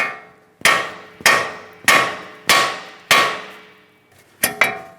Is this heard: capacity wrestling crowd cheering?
no